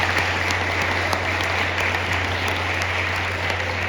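Sustained applause from a large crowd at an outdoor charity sleep-out event, dense steady clapping filling the whole stretch at even loudness.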